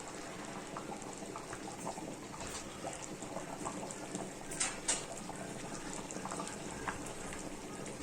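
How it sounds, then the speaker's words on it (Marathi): Malvani chicken curry bubbling at a boil in a pot, a steady dense simmer of popping bubbles with a few sharper spits, heard alone at moderate level. "आता ह्याला छान उकळ येते आहे."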